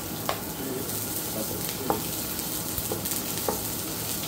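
Garlic and ginger sizzle steadily in a hot pan with a constant crackling hiss, broken by faint clicks of stirring at irregular intervals.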